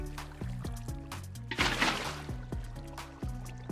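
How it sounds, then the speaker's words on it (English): Water placed block by block in Minecraft, several short liquid splash-and-pour effects in sequence, one louder burst near the middle, over soft background game music. "Lastly, go and add water on the outsides of this cross."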